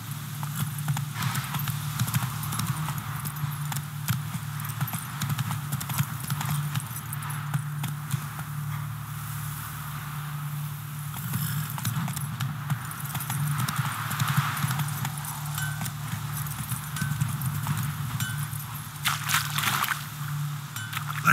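Roach the horse gallops in The Witcher 3, a steady, continuous drumming of hooves that stays loud and close throughout, over a low, even background rumble and with no voices.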